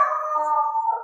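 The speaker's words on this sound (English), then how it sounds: "sorry about that. The dog." A dog howls in one sustained, wavering tone lasting about a second, fairly clear and alone, rising slightly at the end.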